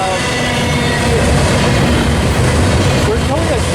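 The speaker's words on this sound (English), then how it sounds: "I think the train's a little too noisy." Freight or passenger train passing a commuter platform in Commerce–Fullerton, California, a loud steady rumble of wheels and cars close by, with faint wheel squeal near the end.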